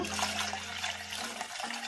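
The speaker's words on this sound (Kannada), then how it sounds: "ಈಗ ಇದಕ್ಕೆ ಒಂದು ಚೊಂಬಷ್ಟು ನೀರು ಹಾಕೋಣ" Water pours from a jug into a buttermilk and spinach mixture, a steady close splashing rush lasting about two seconds with no talking.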